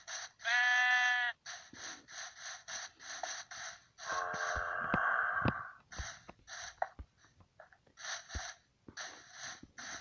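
Sheep bleating in the Minecraft PE video game: a loud, wavering synthetic bleat near the start and a second, lower one midway, surrounded by steady pulsing game background sounds.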